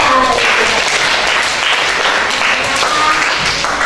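Students in a classroom give a classmate a round of loud, steady applause, the close clapping continuing for several seconds with faint voices mixed in.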